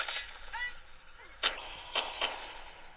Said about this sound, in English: Friendly airstrike incoming.